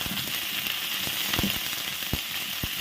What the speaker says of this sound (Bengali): এবার দিয়ে দিচ্ছি ঘাটকপি, ফুলকপি, আলু খালি তেলে জিরে দিয়ে একটু ভেজে নেবো কিছু সময়